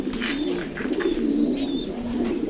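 Domestic pigeons kept in a pen coo in low, throaty, overlapping calls that roll on continuously, close and moderately loud, with no voices present.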